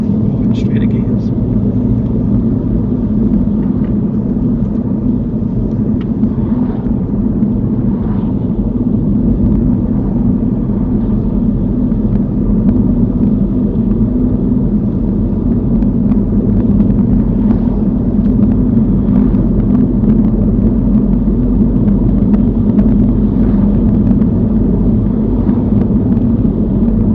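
Steady, loud car engine rumble during a driving lesson, holding a constant low drone throughout with a voice talking intermittently over it.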